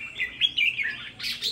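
Caged red-whiskered bulbul songbirds give a close, lively run of bright chirps and warbling trills, with short gaps, then a louder burst of song near the end.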